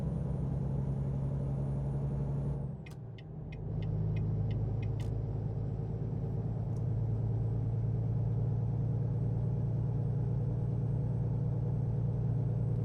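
Steady truck engine hum from American Truck Simulator, a continuous low rumble at near-constant revs, with a brief dip and a few faint clicks partway through, and no talking.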